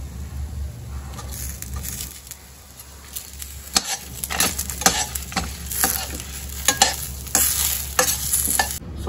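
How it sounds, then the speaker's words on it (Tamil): Grated coconut and curry leaves roast over a low flame while a spoon stirs them, making repeated scraping strokes and clatters over a soft, continuous sizzle, growing busier in the second half. "ஸோ இது நல்லா லோ ஃப்ளேமில் வறுத்தாச்சு"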